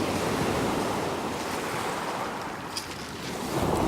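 Sea waves wash and swirl around someone standing out in the water of a bay, a close, steady surging hiss with some wind buffeting the microphone.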